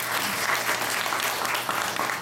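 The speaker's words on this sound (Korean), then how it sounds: "박수 한번 부탁드리겠습니다." A theatre audience at a post-show talk session for a musical applauds in a brief, dense wash of clapping, heard alone without voices.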